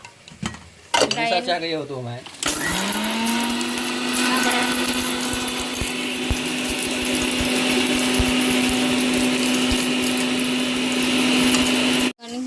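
An electric kitchen mixer grinder whirs loudly and steadily while grinding onions, poppy seeds, cumin, mustard seeds, cinnamon and cloves, starting after a brief stretch of talk and running for about ten seconds before stopping.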